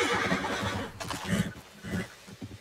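A horse in Red Dead Redemption 2 lets out a loud, close, shuddering whinny in several pulsing bursts, with a little hoof noise and no talking.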